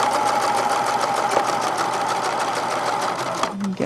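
A sewing machine stitches along gathered fabric, its needle running in a steady, rapid, close hum that holds for several seconds before stopping abruptly.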